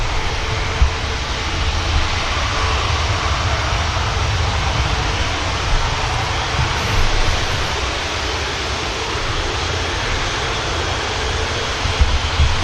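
Loud, steady broadband roar of a Loganair Embraer jet taking off at Manchester Airport, a continuous rushing engine noise holding level throughout with no talk.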